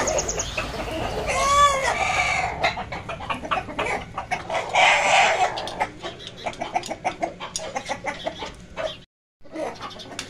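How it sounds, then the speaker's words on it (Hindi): Several roosters kept in a coop cluck steadily and one crows loudly up close, with rustling and farmyard noise around them. "दो मुर्गे इधर इसके ऊपर आ जाते हैं, दो मुर्गे इधर नीचे रहते हैं"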